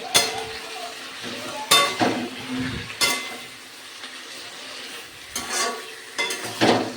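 Chicken pieces marinated with ginger-garlic paste, salt and turmeric frying in a pan over a very low gas flame, soft sizzling punctuated by several loud scraping and clinking spatula strokes against the pan, close by, no talk.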